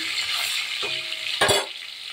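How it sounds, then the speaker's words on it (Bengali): Potatoes salted and frying in a pan until reddish make a steady close sizzle, broken by a couple of brief stirring scrapes and a clink of utensil against the pan. "আলুগুলো একটু লাল লাল করে ভেজে নেব"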